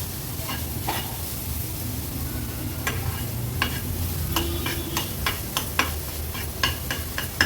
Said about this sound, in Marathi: तेव्हा ती चटणी अशी तेलावर परतून घेते।